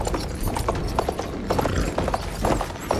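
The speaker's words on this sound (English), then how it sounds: "Let's get the horse and let's run away." A horse gallops in the video game Battlefield 1, its hooves pounding in a steady, loud, close clip-clop rhythm throughout with no talk over it.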